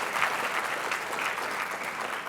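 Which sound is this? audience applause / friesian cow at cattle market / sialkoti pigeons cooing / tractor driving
audience applause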